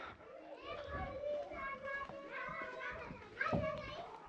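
Children shout and play at a village school in Himachal Pradesh, a steady, fairly faint chorus of overlapping young voices calling and chattering in the background, with one louder cry near the end.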